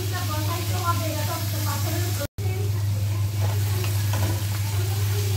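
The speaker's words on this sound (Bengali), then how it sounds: "বারবার নেড়ে ছেড়ে ভাজিটা আমি ভেজে নিব।" Bitter gourd (karela) frying in a pan, stirred over and over: a steady broadband sizzle with scraping stirs, a low steady hum beneath, and a brief dropout partway through.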